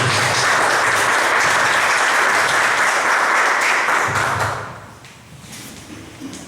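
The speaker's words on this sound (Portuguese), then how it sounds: "Uma salva de palmas para o Senhor Jesus." Loud, dense applause from a church congregation fills the room for about four seconds, then fades quickly into quieter room noise with a few scattered sounds.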